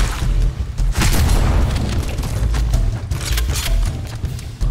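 A plasma grenade going off in Halo Combat Evolved Anniversary on PC, heard as a sustained loud, rumbling blast with crackling bursts that roll on without a pause and no talk over them.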